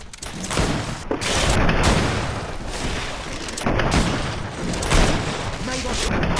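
Grenade explosions in the GreedFall battle, with loud booming blasts and rolling rumble over constant combat noise and shouting voices.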